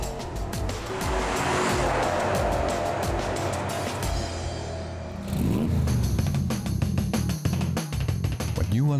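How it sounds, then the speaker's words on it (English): A Porsche Panamera passing close outdoors, a broad roaring engine and tire rush that swells, then a brighter revving surge as it goes by, loud with no talk. "Here it is, the Porsche Panamera, today's classic of tomorrow."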